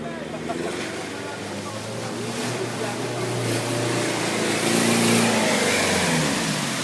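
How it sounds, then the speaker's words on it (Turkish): A car passes on a green valley road trip near Göktürk, a broad engine rumble swelling to its loudest around the middle and end, with people talking over it. "Araba"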